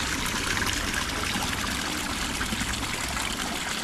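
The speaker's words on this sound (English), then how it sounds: "I hear a waterfall." A small waterfall spills into a pond in a garden in Shimizu, giving a continuous, fairly close splashing and trickling rush of water at an even level, with no voices over it.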